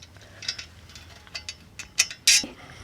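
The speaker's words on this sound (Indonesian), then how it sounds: "Mau Bunda pasang mur bautnya ini." Nuts and bolts being fastened by hand on a metal ring light backdrop stand, a series of light metallic clicks and ratcheting ticks, with two sharper clanks near the end, close up.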